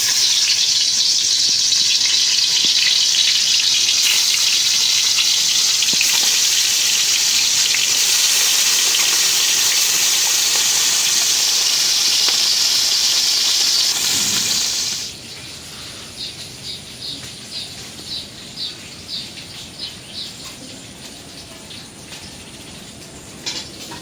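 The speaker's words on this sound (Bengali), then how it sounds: "তেল গরম হয়ে গেছে, মাছ দিয়ে দিই।" Fish fried in hot oil in a home kitchen: a loud, steady sizzle and hiss fills roughly fifteen seconds, then drops abruptly to softer, scattered crackling and popping.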